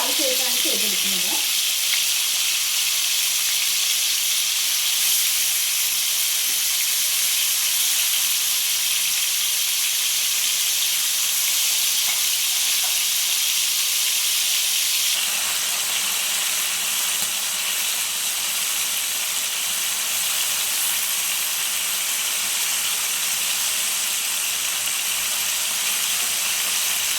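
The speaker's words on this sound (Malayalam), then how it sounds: "വേറെ പാനിലേക്ക് കുറച്ച് സൺഫ്ലവർ ഓയിൽ ഒഴിച്ചു കൊടുക്കാം. ചിക്കൻ ഫ്രൈ ചെയ്തെടുക്കാം." Chicken fries in sunflower oil in a pan, giving a steady, dense sizzle and hiss throughout, with a few faint stirring clinks near the start.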